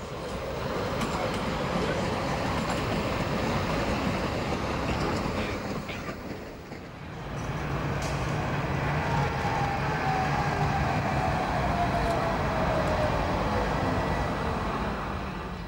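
A Tatra KT4D articulated tram in blue and cream livery rolls past on a Leipzig street with a loud, sustained rumble of rail noise. Wheel squeal rises late in the pass.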